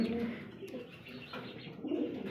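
Big-sized Lahori pigeons at a breeder's sale coo in a low, throaty rhythm, with a few soft chirps mixed in at close range.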